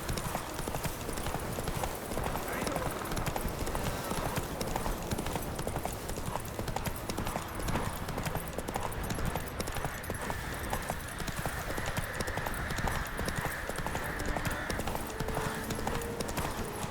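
Roach the horse in The Witcher 3 gallops steadily, hooves clip-clopping in a continuous quick rhythm over a dense game soundscape, with a brief bit of talk over it.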